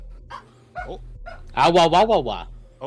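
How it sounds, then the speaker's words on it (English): Hounds barking and whimpering indoors in several short, close bursts, with a louder run of yelping barks in the middle, while people talk over a call. "Are those your hounds?"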